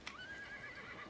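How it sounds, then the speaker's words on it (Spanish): A horse neighs in a video game, a single faint, brief whinny rising and wavering for about a second. "No sé si fue el mío o escuché un caballo."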